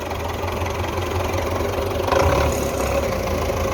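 A Belarus 510 tractor engine runs at a steady, loud, close diesel chug with a low rumbling throb and a slight rise midway, with no talking.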